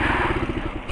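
Motorcycle engine running close by, a brief low throbbing idle with a rapid pulsing rhythm and some mechanical clatter over under a second.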